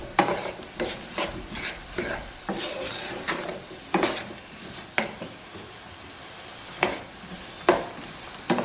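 Cabbage fries over high heat in a pan for vegetarian braised cabbage, with repeated scraping and clattering stirs, about one per second, over a light sizzle.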